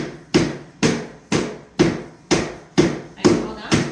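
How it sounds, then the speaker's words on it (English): Luxury vinyl plank flooring gets hammered into place with eight evenly spaced, sharp thuds, each knock decaying quickly, loud and close with no talking. "I'll hold it and you hammer it."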